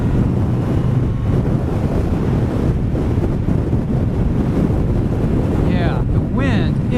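Strong wind blasts past a rider on a sport bike, a loud, unbroken low roar with buffeting that lasts throughout, and faint bird-like chirps near the end.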